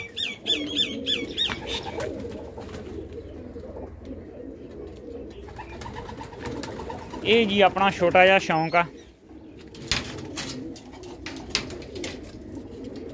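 Racing pigeons in a loft of some seventy to eighty birds, cooing in low murmurs beneath steady nearby speech, with a livelier burst of calls partway through.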